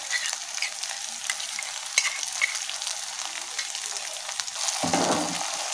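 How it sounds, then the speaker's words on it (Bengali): Chili sauce and tomato sauce being stirred into a paneer gravy in a hot pan, giving a steady sizzle with scraping stir strokes and a louder burst near the end, no voices. "এটা ভালো করে মিশিয়ে নেব।"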